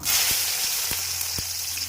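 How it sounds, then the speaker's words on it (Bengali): Okra sliced for bhindi fry sizzling steadily in hot oil, a loud close hiss broken by a few soft stirring taps, with no voices. "ভিন্ডি ভাজা বানাচ্ছি আমরা।"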